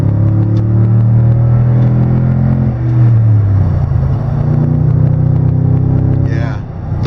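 A 2015 Toyota Tundra TRD Pro pickup's engine and exhaust give a deep, steady growl that swells and shifts pitch as it revs, loud and close, with a brief brighter burst near the end.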